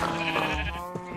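Minecraft sheep bleat several times in close succession, loud and near, with the wavering nasal cries of the game's farm animals filling the short moment.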